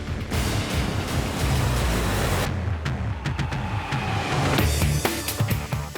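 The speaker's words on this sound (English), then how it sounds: "I hold the blade edge up so that I can see the depth of my plunge as I grind horizontally." A knife blade is hollow-ground by plunging it horizontally against a 12-inch grinding wheel, producing a continuous loud, rough rushing hiss that shifts in intensity as pressure changes.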